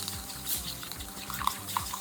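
A spoon stirs sriracha into mayonnaise in a bowl, giving soft wet swishing and a few light clicks against the side, quiet and close with no talking.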